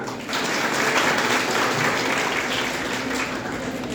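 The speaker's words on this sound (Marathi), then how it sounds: "टाळ्या चांगल्या वाजवा" Audience in a college hall claps loudly and continuously, a dense even wash of applause from many hands lasting the whole stretch with no voices on top.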